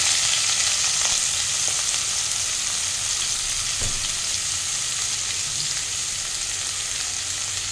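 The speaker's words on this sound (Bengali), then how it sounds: "এবার আমি এঁচোড়গুলো দিয়ে দিচ্ছি, ওই একই তেলে আমি একটু ফ্রাই করে নেব" Pieces of young jackfruit fry in hot oil, a dense, steady sizzle that stays loud and even throughout, with faint occasional stirring scrapes and no talking.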